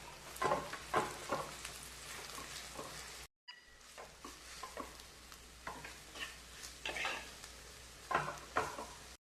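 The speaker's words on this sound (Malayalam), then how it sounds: "ഇനി നന്നായി ഒന്ന് ഇളക്കി കൊടുക്കാം" Thakara leaf thoran with grated coconut stirred in a pan, a spoon scraping and tossing the greens in steady, irregular strokes over a soft background sizzle, with a brief pause partway through.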